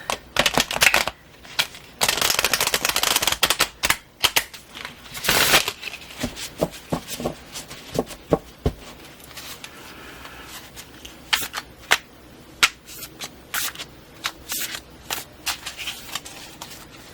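Loud, crisp riffle shuffles of tarot cards, with dense bursts of snapping in the first half, then scattered sharp card flicks and taps.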